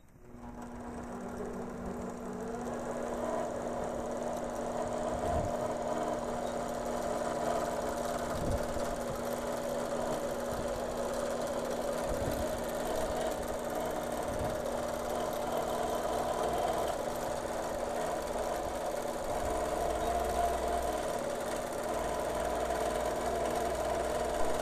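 A longarm quilting machine runs steadily on channel lock, stitching binding onto a quilt in a straight line, a continuous near hum with faint periodic ticks and no talking.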